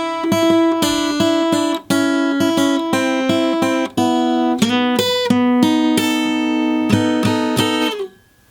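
Slow blues intro turnaround in E on electric guitar in standard tuning, a steady sequence of clear plucked notes and double stops ringing out with brief gaps, played alone and up close before fading at the end.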